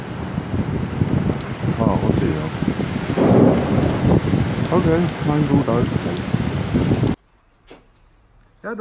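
Heavy rain and rumbling thunder from a thunderstorm in Spain roar with wind buffeting the microphone, a voice talking over the storm before it cuts to near quiet.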